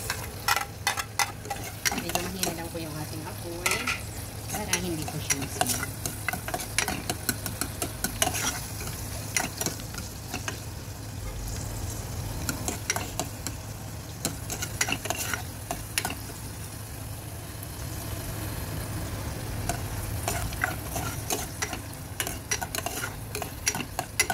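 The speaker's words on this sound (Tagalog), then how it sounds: "nilagyan ko ng konting mantika. Ilalagay natin ang ating sibuyas." Onions fry in a little oil for a beef bun filling, giving a continuous close sizzle broken by frequent rapid clicks and scrapes of stirring throughout, with no talking.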